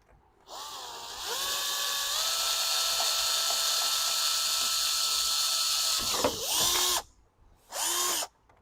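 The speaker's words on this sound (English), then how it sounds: "you'll need to pre-drill through the aluminum with a 1/16 inch drill bit" A power drill with a 1/16 inch bit pre-drills through aluminum, whining at a steady high pitch for several seconds, bogging down briefly, then two short bursts as the trigger is pulled again.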